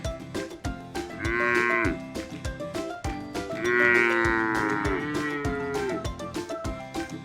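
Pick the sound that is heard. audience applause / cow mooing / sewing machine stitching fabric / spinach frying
cow mooing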